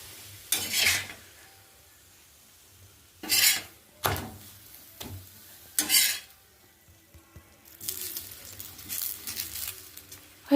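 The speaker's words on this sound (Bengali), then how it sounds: "এটা ভালো হচ্ছে, মচমচে করে ভাজছি।" Aloo paratha crisping in a pan on a low gas flame, a soft steady sizzle broken by several loud scraping and pressing bursts from a spatula as the bread is pushed down, with clinks of cookware near the end.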